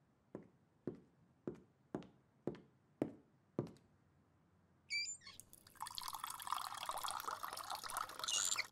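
Water from a tap into a glass in a children's cartoon: seven slow, evenly spaced drips, then a short squeaky turn and a steady, louder stream of running water filling the glass.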